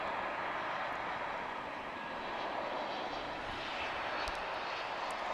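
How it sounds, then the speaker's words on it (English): Jet engine roar from a UPS cargo aircraft at DFW International Airport, a steady, broadband rumble and hiss heard from a distance, faint and continuous throughout. "oh, another UPS"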